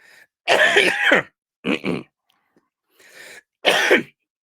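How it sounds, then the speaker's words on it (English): A man coughs and clears his throat in three or four harsh, close bursts separated by short silences, with no talk in between. "I'm having trouble with coughing"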